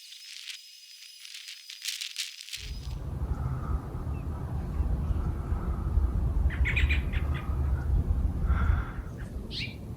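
Birds call around a new patio bird feeder, with a few brief chirps against a constant outdoor hiss, after a quiet start.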